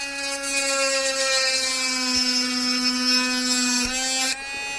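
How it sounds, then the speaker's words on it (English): A small rotary drill boring a hole through a leaf earring gives a steady, close, high-pitched whine that holds for several seconds, then drops off abruptly near the end. "going to drill a hole in that"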